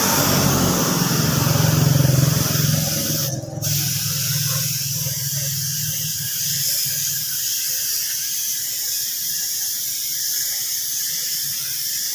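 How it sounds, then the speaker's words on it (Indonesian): Silicone spray hisses from an aerosol can onto car parts, a loud close burst over about three seconds, then a brief sharp spurt followed by a quieter hissing background. "ini silikonnya juga perlu kita semproti juga, karena ini juga kucel-kucel"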